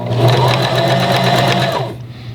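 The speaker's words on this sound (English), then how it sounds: "keep this edge here lined up with the spot, maybe on your presser foot or sewing machine" Sewing machine stitching binding onto knit fabric, a close, loud, rapid mechanical whir for about two seconds before stopping abruptly.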